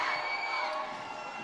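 A home crowd cheering and shouting at a varsity boys high school basketball game in the Anacortes gym, a sustained, distant-sounding roar of many voices that holds steady and eases slightly.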